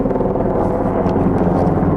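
A helicopter drones overhead, a heavy low rumble with a steady, pulsing rotor throb that stays loud and constant throughout.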